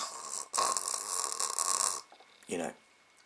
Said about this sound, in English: apparently I snore, so and there's me on the train